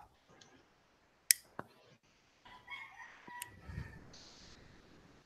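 Roosters crowing on a farm in the early morning, with sharp clicks early on and a busy, moderately loud stretch of crowing and clucking in the second half.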